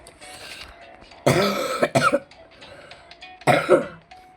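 A person with a fever coughs and clears their throat in two harsh, close bursts separated by a quiet pause, with low background noise between.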